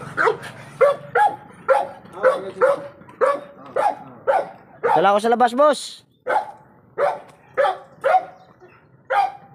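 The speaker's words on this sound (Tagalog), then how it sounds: "Laki ng aso." A deep-voiced dog barks repeatedly in short bursts, loud and close, while someone talks between and over the barks.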